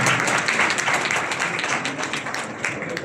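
An audience at a pensioners' day gathering in Malakpet gives a dense, sustained round of applause that fades slightly toward the end, with some voices mixed in.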